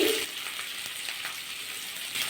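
Onions fry in oil in a pan, a steady close hiss of sizzling with faint stirring scrapes, no voices.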